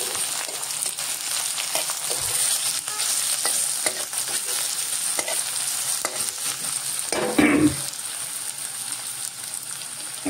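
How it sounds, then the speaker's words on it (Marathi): Onion fries in a pan while being stirred, giving a steady close sizzle with scraping and clinking from the utensil that swells briefly near the end. "हा कांदा घातलेला आहे, हा देखील असा आपण हलवून घेतो"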